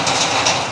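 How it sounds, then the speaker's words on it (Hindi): Steady broadband hiss of heavy rain pouring down in Ranchi, India, with a parent and young son caught outdoors in it, a continuous close wash of drops with no voices. "मैं और बेटा दोनों फंसे हुए बारिश में"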